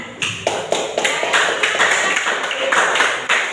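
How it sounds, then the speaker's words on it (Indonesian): Classroom of students clapping hands together in a steady, fairly rhythmic burst of separate claps, moderately close and loud, with no talk over it. "Tepuk tangan."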